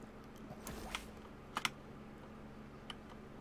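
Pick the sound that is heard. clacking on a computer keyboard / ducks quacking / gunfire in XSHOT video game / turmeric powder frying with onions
clacking on a computer keyboard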